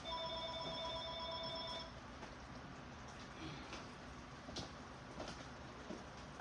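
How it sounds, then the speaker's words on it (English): A house telephone rings in a kitchen where spaghetti is cooking, a repeated electronic trill heard for the first couple of seconds before it cuts off, leaving quiet room tone with faint clicks. "Here's my house phone again."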